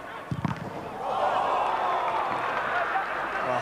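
A football stadium crowd at the 1998 OFC final rises into a sustained roar after a painful hit, following a few brief thuds at the start.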